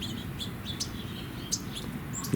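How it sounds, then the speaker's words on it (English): Birds chirp around a backyard bird-seed feeding spot, several short bright tweets scattered irregularly over a soft steady outdoor background, fairly faint and with no voices. "The birds are making a ton of noise now."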